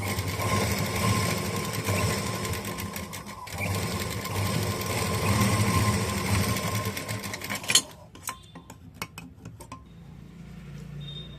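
A sewing machine runs steadily and close, stitching the neck of a school uniform, then stops abruptly; a few small clinks and handling knocks follow in the quieter tail.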